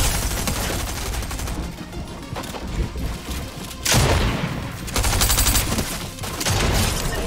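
Rapid gunfire in Fortnite, with repeated loud blasts, booms and thuds in close succession over game sounds, several heavy bursts breaking through a dense battle mix, no voices.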